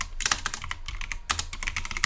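Fingers tap quickly on a computer keyboard while typing a file path, a close run of crisp uneven clicks with short gaps.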